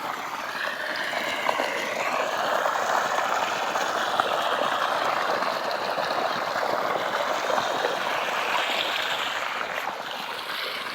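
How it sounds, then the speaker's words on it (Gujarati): Motor-pumped water rushes steadily along an irrigation channel on a farm, a loud continuous gushing flow close by with no pauses. "એટલું પાણી આવે છે મોટરનું."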